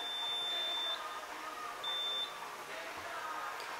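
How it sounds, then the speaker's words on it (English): A Safeline drop-through metal detector detecting metal, sounding two steady high-pitched electronic beeps, each close to a second long and separated by a short pause, over a constant hum of machinery, with no talking. "You can hear the detector operating."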